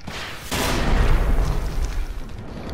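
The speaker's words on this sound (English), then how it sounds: "Everything's exploding, I don't know what to do." Missiles explode in the video game Generation Zero, a loud, deep rumbling boom that bursts in suddenly and swells into a sustained roaring blast, crackling debris trailing off as it fades.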